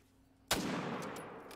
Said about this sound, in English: I just hear a gunshot